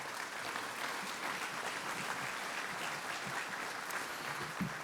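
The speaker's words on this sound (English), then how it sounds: "Let's give them all a round of applause." Steady applause from a large audience at a technology summit fills the whole stretch, a dense, even wash of many hands clapping at moderate distance with no pauses.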